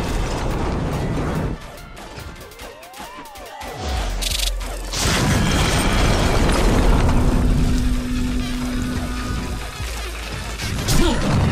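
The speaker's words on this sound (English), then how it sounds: "A Hellborn barracks has been destroyed." Heavy crashing and booming as a Hellborn barracks is destroyed in the video game Chronos, with mechanical clatter, a deep rumble and sustained debris noise over several seconds, followed by a swelling crash near the end.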